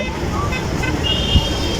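A steady roar of traffic on the Dhaka–Pabna highway fills the brief stretch, with a distant horn and faint voices in the background.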